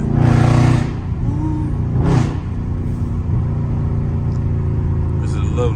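A Dodge Charger Scat Pack engine rumbles steadily while driving at night, with a couple of louder swells, under someone talking over the engine noise inside the car.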